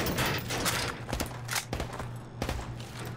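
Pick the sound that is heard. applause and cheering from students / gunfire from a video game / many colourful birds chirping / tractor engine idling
gunfire from a video game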